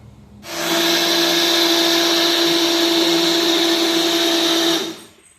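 An electric blender churns buttermilk in a steady, loud, continuous whir for about four seconds, starting abruptly and winding down at the end, with no talk over it.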